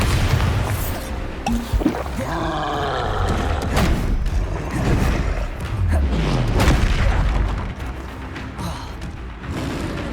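Bombarda blasting spells exploding in the Hogwarts Legacy video game, loud booming blasts and crashes with rumbling debris and scattered combat noise, one burst after another over continuous game sound.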